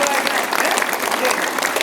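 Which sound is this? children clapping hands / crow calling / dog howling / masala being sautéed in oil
children clapping hands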